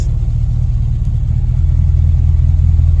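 A Mini's engine carries the car away, a loud, steady low rumble that swells slightly as it drives on, close and with no talk.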